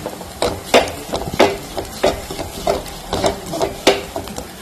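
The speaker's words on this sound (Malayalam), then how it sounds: "ഇനി ഇതിലേക്ക് നമുക്ക് ഫ്രൈ ചെയ്ത് വെച്ച ഉണക്കച്ചെമ്മീനും കൂടി ഇട്ടിട്ട് നല്ലോണം ഒന്ന് മിക്സ് ചെയ്തെടുക്കാം" A spoon stirs fried dried shrimp into spiced masala in a pan, giving steady rhythmic scraping strokes about twice a second, close and clear over a faint sizzle.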